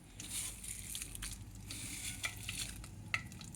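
Whole spices for a tempering crackle and sizzle in hot oil in a pan, part of a guthivankaya (stuffed eggplant) curry. The frying hiss is steady and close, with scattered sharp pops and stirring scrapes, and no one talks.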